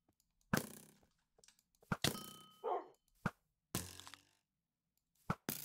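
A pet dog barks in a few sharp, separate bursts spread across the stretch, fairly close and loud, with quiet gaps in between.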